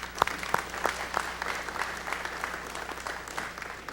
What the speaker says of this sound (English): let's pause and applaud each mother for being in attendance today